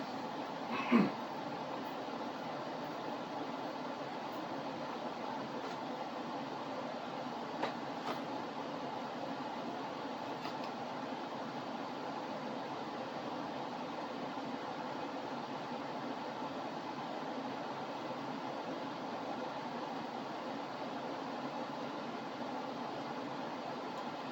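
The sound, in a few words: air conditioner running in the room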